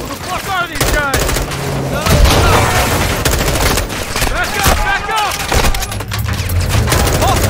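Heavy gunfire in a chaotic Call of Duty Modern Warfare II firefight, with dense bursts and automatic fire crackling continuously up close, punctuated by louder booms and shouted voices throughout.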